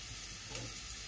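Onions fry in a saucepan with a steady, close, continuous sizzle and no talking.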